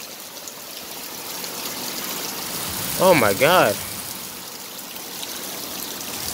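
Heavy rainwater rushes steadily into a street drain during a downpour, a constant hissing flow close by, with a person briefly exclaiming over it midway.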